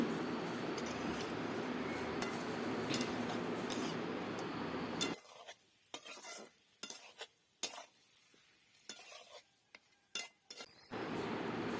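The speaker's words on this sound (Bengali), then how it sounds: "তো মাছটা কষিয়ে নিচ্ছি" Pangas fish with fenugreek sautéing in a pan gives a dense, steady sizzle for the first few seconds, then turns quieter, with scattered stirring and clinks of a utensil against the pan.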